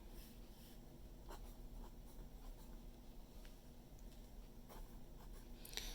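Marker or chalk writing a decimal number on a classroom board, faint soft scratchy strokes with small taps over a quiet room hum.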